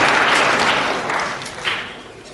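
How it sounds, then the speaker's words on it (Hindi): Audience clapping during an evening satsang, a dense burst of many hands that starts loud and gradually thins and fades over two seconds, with a brief swell near the end. "दे ताली,"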